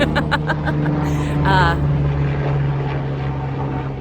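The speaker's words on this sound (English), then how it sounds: "Pause for a helicopter." A helicopter passes overhead with a steady low rotor drone and engine hum, fairly loud and continuous, while a person talks over it.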